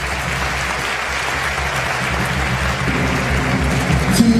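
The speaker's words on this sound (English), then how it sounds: "If I can have a round of applause for them one more time," A junior high spring concert audience applauds steadily, a dense, even wash of clapping that stays loud and full for the whole stretch.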